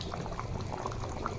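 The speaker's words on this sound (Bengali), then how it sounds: "দেখো আমার তরকারি কিভাবে ফুটতে আছে" Curry bubbling steadily under a lid, a covered pot of fish curry simmering with cumin paste, giving a continuous close rolling boil with scattered small pops and no talking.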